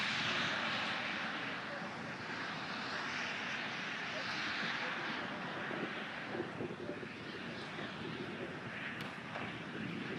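An aircraft's engine and propeller roar in a loud, steady, wide-band drone through an airshow display flyby, with wind buffeting the microphone.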